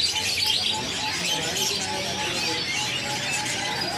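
Dense, busy chirping and tweeting from many caged birds, including bulbuls, at Pramuka bird market, steady and fairly close, with a faint cooing undertone.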